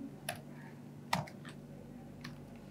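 A few sparse computer keyboard keystrokes while typing Docker code, scattered clicks spread across a quiet moment with a low steady hum underneath and no talking.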